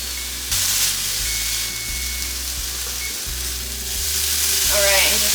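Garlic sizzles steadily in a hot pan while a utensil stirs it with repeated scraping knocks, up close and loud, with no voice.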